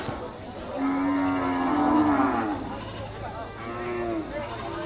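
Water buffalo (kalabaw) at a livestock market, giving several long, loud, drawn-out moos close by, with background chatter from a crowd.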